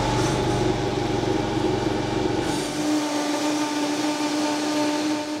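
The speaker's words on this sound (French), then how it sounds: "je mets du quinoa dans mon blender" A blender whirs loudly as it purées quinoa with water and a pinch of salt, a steady motor roar that shifts to a thinner, higher whine partway through and keeps running to the end.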